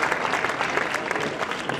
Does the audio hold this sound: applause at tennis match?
yes